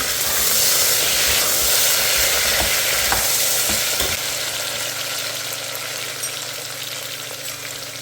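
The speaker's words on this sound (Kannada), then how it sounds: "ಬದನೆಕಾಯಿ ಫ್ರೈ ಮಾಡ್ಕೋಬೇಕು." Brinjal frying with onions in a pan, a steady close sizzle with occasional stirring scrapes, loud at first and gradually easing over several seconds, no voices.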